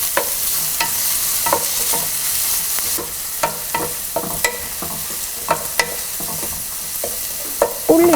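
Crushed shallots and garlic sautéing in hot coconut oil, a steady soft sizzle under repeated clinks and scrapes of a spoon stirring the pan, with sharper knocks near the end.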